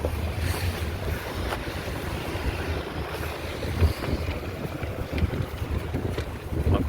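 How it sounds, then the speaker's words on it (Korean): Wind blows outdoors on a city walk in Busan, producing a constant rumbling buffet against the microphone with low gusty swells and faint background noise, no voices. "바람이 좀 부네요"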